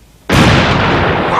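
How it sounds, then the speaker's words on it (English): Explosion from chemicals in test tubes reacting, a sudden loud blast after brief quiet that rolls on as a sustained roaring burst through the rest of the moment. "It adds up to a very large explosion in whatever area one finds both A and B."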